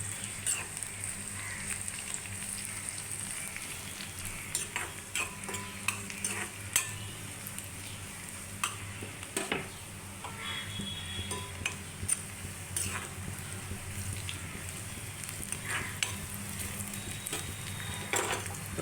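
Sesame seeds being dry-roasted and stirred in a pan for drumstick-leaf sesame powder, giving a steady low sizzle with scattered light scraping and pattering ticks throughout, fairly quiet and continuous with no voice.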